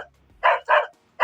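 A rugged smartphone's alarm plays a recorded dog barking, three short, sharp barks spaced by brief gaps, clear and close with no talk over them.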